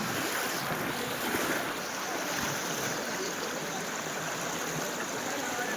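Floodwater from the overflowing Malan River near Mahuva rushes past in a constant, loud broadband roar, steady throughout with wind buffeting the microphone.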